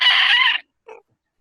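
A large bird lets out a loud, harsh shriek lasting about half a second, then a brief, fainter squawk follows after a short silence; the calls come from birds circling overhead.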